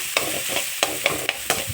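Chopped onion being stirred with chili-ginger-garlic paste in hot oil for a kidney bean curry, a soft sizzle broken by about six sharp spoon-against-pan scrapes at irregular intervals, close by, no voices.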